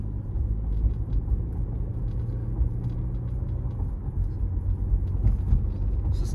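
A car drives steadily through a residential neighborhood in Ankeny, Iowa, with a continuous low engine and road rumble from inside the vehicle and no break in the drone.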